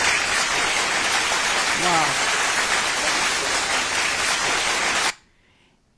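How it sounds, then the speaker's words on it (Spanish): Studio audience applause on a Spanish-language talk show, a dense wash of clapping held for about five seconds before cutting off abruptly, with a brief exclamation heard through it. "Aplausos"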